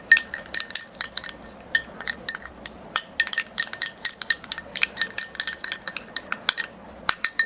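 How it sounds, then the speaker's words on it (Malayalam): A spoon stirs yogurt and instant coffee powder in a bowl, giving quick, irregular light clinks and taps against the rim, close and clear with no talking. "ഇത് രണ്ടും കൂടെ നല്ല രീതിയിൽ അങ്ങ് മിക്സ് ചെയ്യുക."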